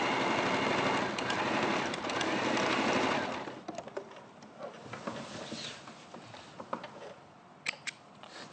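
Sewing machine stitching fabric down a V shape, a fast dense whir for about three seconds, then short stop-start bursts as the needle pivots and heads back up the side, close and alone.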